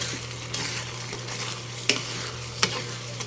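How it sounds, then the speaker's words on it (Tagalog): Sautéed fermented rice and fish, burong isda, sizzles softly in a pan as a spatula scrapes the bottom, with a few sharp utensil clicks against the pan over a low steady hum. "Haluin sa ilalim dahil nagtututong na."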